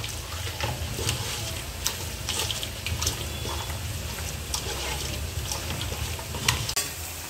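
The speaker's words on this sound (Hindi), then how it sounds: "प्याज फ्राई हो रहा है" Onions fry in a pan for a chicken dum biryani, giving a continuous close sizzle with scattered crackles and pops throughout.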